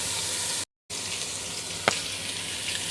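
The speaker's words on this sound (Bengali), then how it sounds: "একটু লবণ দিয়ে তাড়াতাড়ি করে ভাজতে হবে" Carrots and long beans with onion, garlic, ginger paste and pepper frying for fried rice, a constant close sizzle with a momentary dropout and a single sharp clink partway through.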